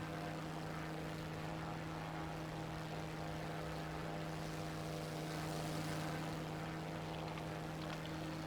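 Steady, droning propeller engine of a fixed-wing aircraft in War Thunder, a continuous hum with a strong low tone running unbroken, moderately loud and close, with no voices over it.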